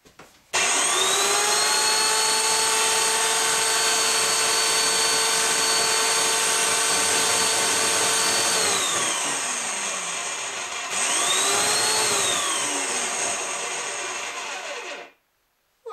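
A repaired electric meat grinder motor runs loudly with a steady whine, winding down around 8 seconds, restarting and spinning back up, then cutting off near the end; no talk.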